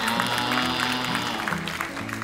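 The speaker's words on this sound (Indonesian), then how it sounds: "Boleh tepuk tangan yang dari jam 6 udah ada di mall ini." A crowd gathered at a mall event claps in a brief, fairly dense burst of applause, with a murmur of voices and background noise mixed in.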